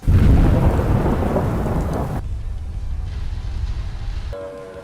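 Thunder rumbles heavily over steady rain during a storm in Fallout 4, loud and close at first, then cutting to a quieter low rumble with a faint tonal hum at the end.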